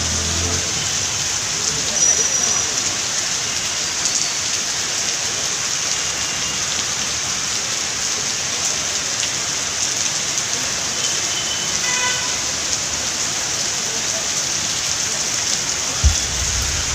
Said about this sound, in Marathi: जोरदार पाऊस चालू एकदम जोरदार